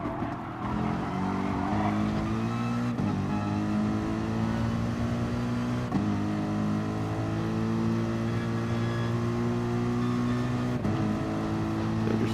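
A race car engine in a racing video game at the Maggiore circuit holds a steady, loud drone for the whole stretch, with brief dips at gear changes or lifts.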